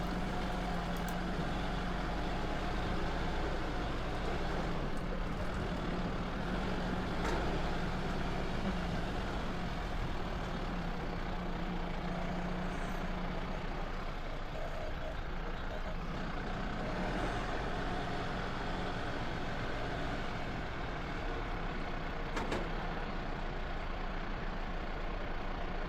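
A truck grinds up a muddy track, its engine a loud, steady drone that holds for the whole stretch, with faint creaks and knocks scattered through and no talking.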